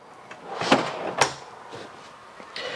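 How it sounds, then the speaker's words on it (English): Soft-close drawers in the kitchen island of a 2019 DRV Mobile Suites 36 RSSB3 luxury fifth wheel sliding shut, two muted wooden thumps followed by fainter rustles, close by in a quiet room. "All soft touch closes on the drawers."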